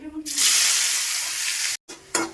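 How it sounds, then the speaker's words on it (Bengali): A sudden loud sizzle as cumin seeds and chopped onion hit hot oil left from frying fish, sustained hiss that cuts briefly and resumes, with a voice just before it. "মাছ ভাজা তেলেই আমি এখন ফোড়ন দিয়ে দিচ্ছি সামান্য পরিমাণে গোটা জিরা, একটা গোটা পেঁয়াজ কুচি।"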